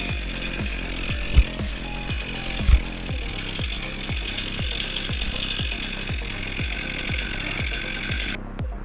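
A chainsaw cuts into a palm tree, its engine pulsing in a rapid, even chug that stays loud and close throughout, with a couple of sharp knocks early on and no voices.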